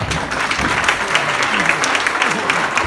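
Steady, dense applause from an audience at a paramedical college in Palmpur, a continuous wash of many hands clapping with voices murmuring underneath.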